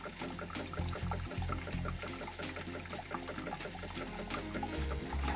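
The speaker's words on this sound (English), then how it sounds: "It's now cleaning itself by drawing a mix of the cleaning fluid with the water up through the milk tube into the frother unit" A Jura Giga X7 coffee machine runs its self-cleaning cycle, with water and cleaning fluid pumped through the milk frother and draining into the drip tray as a steady trickle over a rhythmic pulsing pump hum.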